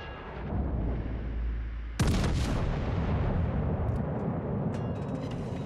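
Battleship main guns fire in World of Warships: a sharp, loud salvo crack hits mid-clip after a low steady engine rumble, then a long rolling boom decays under continuing background noise, no voices.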